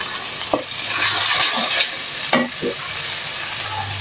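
Fish and cauliflower frying in a pan with garlic and ginger paste, a continuous sizzle broken by several scraping stirs and clinks of a spatula, close and fairly loud.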